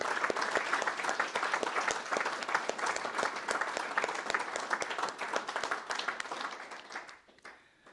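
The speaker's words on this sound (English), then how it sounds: "let's give all these folks a round of applause then" Sustained applause from a crowd at a dinner event, dense and steady clapping for about seven seconds before tapering off into a few scattered final claps.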